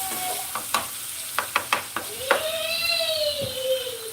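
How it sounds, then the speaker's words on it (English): Ground meat for chili fries and sizzles in a pan while a utensil crushes it, making a run of short scraping knocks over a soft sizzle. A voice is heard in the background. "I'm crushing up my meat"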